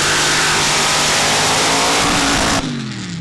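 A mud racing vehicle revs loud and continuous on a Pro Badd mud race run, its engine roaring steadily for a few seconds. Then it cuts off sharply near the end and the roar drops to a fading lower rumble.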